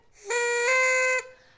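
A person whistles a single steady, high tone for about a second, imitating the whistling of wind.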